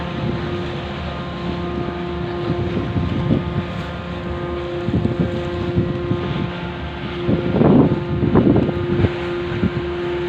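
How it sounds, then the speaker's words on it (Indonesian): Strong wind buffeting the microphone at Merak ferry port as a ferry docks, a steady rumbling roar with gusty swells and a low engine hum underneath, loud and continuous. "Ini anginnya kencang juga ya"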